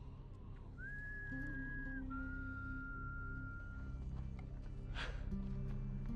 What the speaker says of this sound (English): he hears that unmistakable whistle